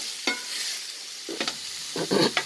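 Onion and tomato sautéing in a pan: a soft steady sizzle with several scraping stirs of a spoon, close and fairly quiet.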